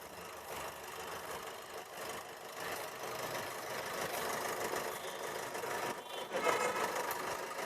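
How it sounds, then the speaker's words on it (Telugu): A used Maruti Swift Dzire car with its engine idling quietly, a faint steady low hum with no speech over it. "ఇంజన్ అయితే చాలా సైలెంట్ ఉంది."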